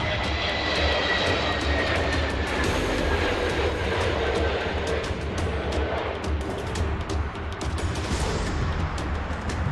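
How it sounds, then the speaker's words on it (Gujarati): A fixed-wing airplane attempting to land at Heathrow in strong cyclone winds, its engines roaring loud and continuous, with gusty wind noise throughout and no talk. "જેમાંના એક પ્લેને હિથ્રો એરપોર્ટ પર લેન્ડિંગ માટે પ્રયાસ કર્યો, પણ ભારે પવનના કારણે પાયલોટે પ્લેનને જમીન પર ઉતારવાની હિંમત ન કરી"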